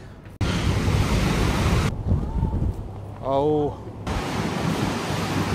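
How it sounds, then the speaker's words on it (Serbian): Strong wind buffets the microphone on a ferry crossing from Karaköy to Kadıköy in Istanbul, a loud rushing roar that cuts out for about two seconds, when a voice is briefly heard, and then returns. "Testiramo mikrofon jer jako duva vetar"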